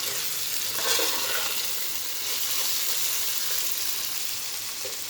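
Rice and red lentils frying together in a pan for khichdi, giving a soft, continuous sizzle with light stirring, fairly quiet and close, no voices.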